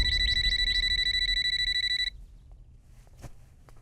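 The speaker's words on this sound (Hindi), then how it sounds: "अरे फोन इतनी देर से बज रहा है, उठाते क्यों नहीं?" A telephone rings with a repeating electronic trill of bright pulses for about two seconds, then stops abruptly, leaving a quiet room with a faint knock.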